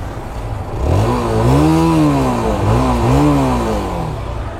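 A QJ Motor SRV 160 cruiser motorcycle engine running close by, revving up twice with rising and falling pitch over a steady idle, with no voices.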